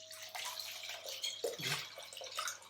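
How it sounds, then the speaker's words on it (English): Dirty rinse water is poured off walnuts, giving a steady splashing and trickling of water with a louder gurgling slosh near the middle, fairly faint and close. "I just pour it out here to get the dirty water out"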